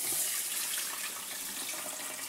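Water runs steadily into a rice cooker while sushi rice is being prepared, a soft, even hissing pour lasting a couple of seconds with no talking.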